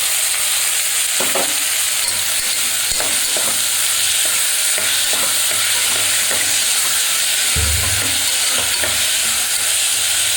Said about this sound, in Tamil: இப்போது இந்த வதங்குறதில் நம்ம தக்காளி போட்டோம்